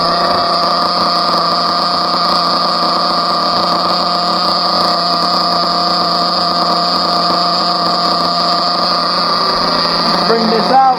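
A Team Associated RC car nitro engine running during break-in, a loud, steady high-pitched whine that holds constant throughout with no pauses, close up.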